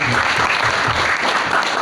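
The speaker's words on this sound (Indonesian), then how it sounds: "Tepuk tangan beri tepuk tangan" Church congregation applauding at a Sunday worship service, dense steady clapping from a crowd filling the room, loud and close with no talk over it.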